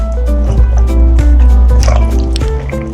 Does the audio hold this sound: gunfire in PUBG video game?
no